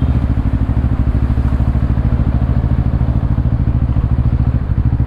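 Bristol Bobber 700 motorcycle engine running steadily throughout, a loud, continuous low rumble with rapid pulsing beats, heard up close while riding.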